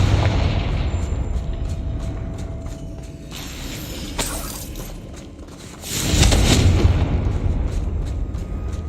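Blasting-spell explosion in a Harry Potter video game, a sharp crack followed by a loud, broad roaring burst that swells and lingers over rumbling ambience.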